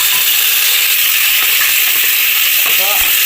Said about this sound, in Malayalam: ഇനി നമുക്ക് ഇതിലേക്ക് ആവശ്യത്തിന് തക്കാളി ചേർത്ത് കൊടുക്കാം. തക്കാളി കൂടി നമുക്ക് വഴറ്റിയെടുക്കണം.